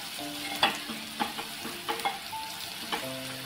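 Fried onion with half a spoon of turmeric being stirred in a pan for Maharashtrian pithla, with soft scraping strokes and gentle sizzling, a few sharper spoon knocks standing out, close and fairly quiet.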